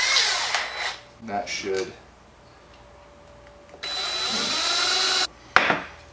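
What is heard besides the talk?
drilling wood with a 3/4 inch paddle bit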